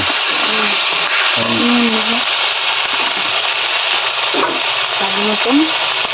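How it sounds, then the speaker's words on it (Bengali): Soybean curry sautés with Kashmiri chili powder in a pan as a spoon stirs it. A continuous sizzle runs under scraping stirs, and a voice talks intermittently over the cooking. "এটা হলো কাশ্মীরি মরিচের গুঁড়ো সব নেড়ে নেড়ে কষিয়ে নেবে"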